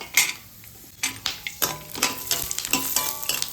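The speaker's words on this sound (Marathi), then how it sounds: "2 चमचे तूप घातलं होतं आणि त्याच्यामध्ये हे बदाम आपण घातले, हे थोडेसे असे परतून घेऊया" Almonds and cashews roast in two spoons of ghee while a spoon stirs and scrapes the pan in repeated strokes, with a steady close sizzle and metallic clinks throughout.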